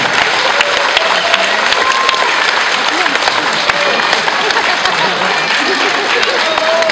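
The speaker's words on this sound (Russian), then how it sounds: "И ваши аплодисменты самым маленьким учащимся." Applause from a concert audience for the youngest students of a dance school, a dense continuous clatter of many hands, loud and even throughout, with faint cheering mixed in.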